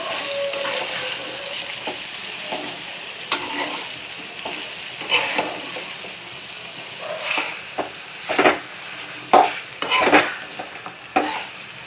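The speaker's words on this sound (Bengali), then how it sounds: "এবার ভালো করে কষে নিচ্ছি কারণ এভাবে কিন্তু মাংসগুলো বেশি সিদ্ধ হবে না" Chicken feet stir-fried in a pan, a continuous sizzle broken by repeated scraping strokes of a spatula against the metal, close and fairly loud, with no talking.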